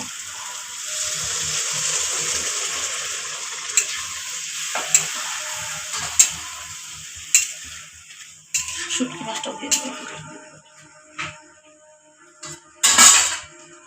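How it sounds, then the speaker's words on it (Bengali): Water poured into sizzling goat meat curry: a steady frying hiss that thins out, followed by a series of irregular stirring clatters and scrapes, louder bursts of bubbling near the end. "ভাজা হয়ে গেছে এখন জল দিয়ে দিব"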